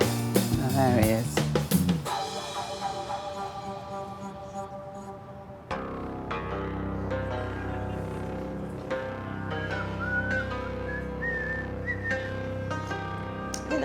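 A person whistles in an outdoor setting, a short melodic run of pitched notes over a background of music and ambient sound, with no talking.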